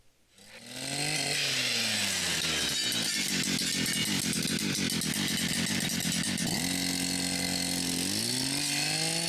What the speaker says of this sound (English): we brush cut the road that goes to the sand pit.